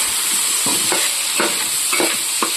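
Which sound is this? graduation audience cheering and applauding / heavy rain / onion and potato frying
onion and potato frying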